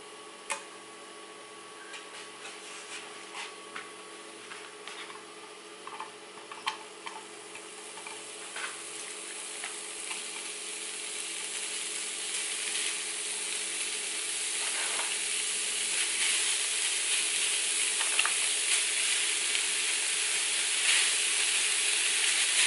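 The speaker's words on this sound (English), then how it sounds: "now I'm going to go ahead and turn my stove on and get started on my browning my ground beef" Ground beef sizzles in a pan on a stovetop, a continuous crackling hiss with scattered pops and ticks that grows steadily louder and denser as the pan heats up.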